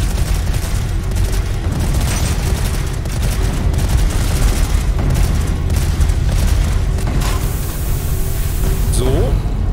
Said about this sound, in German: Da hinten kommen Granaten rüber geflogen.